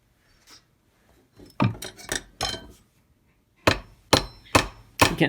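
Sharp metallic taps as a pin made from a nail is hammered into the metal internals of an old hand drill, a few scattered strikes followed by four louder evenly spaced blows, with quiet gaps between.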